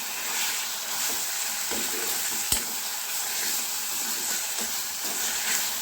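Lemon juice being stirred into chitranna seasoning in a hot pan, a steady sizzling hiss with soft spoon scrapes and a sharper clack near the middle, no talking.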